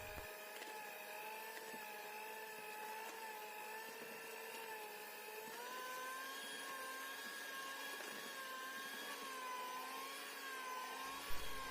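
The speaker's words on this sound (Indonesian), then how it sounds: "Kurang lebih aku mixer selama 12 menit." A stand mixer kneading donut dough hums at a steady pitch for the full stretch, close and even, with only slight shifts in tone.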